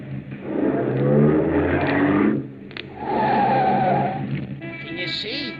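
Radio drama effect of a car pulling up beside another car, with two surging bursts of engine and squealing tires close by, then a high whine fading at the end.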